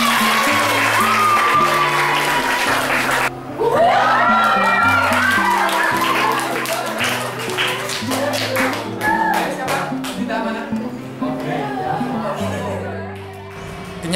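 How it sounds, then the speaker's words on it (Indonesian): Audience applause during a school lesson, a dense patter of clapping hands mixed with cheering voices and crowd chatter, while musical tones play underneath throughout. "Kita beri tepuk tangan sekali lagi."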